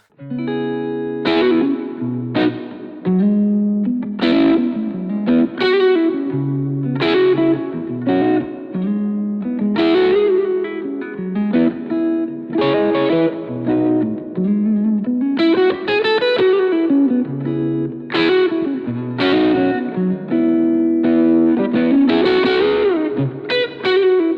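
Clean electric guitar through a Yamaha THR amp, playing strummed chords and picked licks with a bright, slightly shimmering tone, steady and upfront with no voices.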